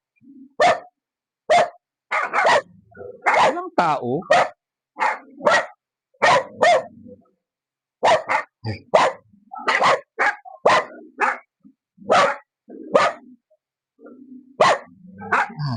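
A dog barks repeatedly near a house, sharp bow-wow bursts in an irregular series with short pauses, loud and close, while someone says a few words.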